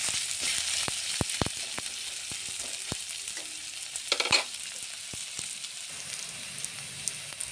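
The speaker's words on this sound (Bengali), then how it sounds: "আর অল্প একটু লবণ দিলে পেঁয়াজগুলি ভালো ভাজা হয়ে যাবে।" Onions with a little salt frying in a pan, a soft continuous sizzle broken by scattered clicks and taps of a utensil, close and fairly quiet, with no talking.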